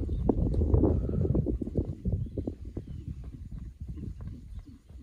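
Hooves of a Lusitano horse, a six-year-old gelding at a stud farm, moving in a steady clip-clop rhythm at moderate distance, with light wind noise in the background.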